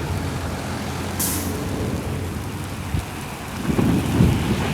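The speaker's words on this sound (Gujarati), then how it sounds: "આ તમે આ જોઈ શકો છો વરસાદ ચાલુ થઈ ચૂકી છે" Steady rain pours down with a low rumble building toward the end, like distant thunder rolling under the downpour.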